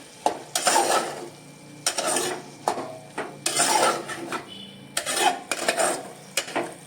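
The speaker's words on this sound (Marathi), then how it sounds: "ह्यात सुद्धा खवलेला ओला नारळ घालूया आणि एक 2 मिनिटं परतूया" Vaali greens and grated fresh coconut being sautéed in a pan, with a spatula scraping and clinking against the metal in short, repeated strokes, close and clear with no talk.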